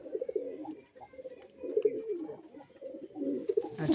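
A pigeon at a loft coos nearby in soft, repeated throaty phrases, with brief pauses between them and faint background noise.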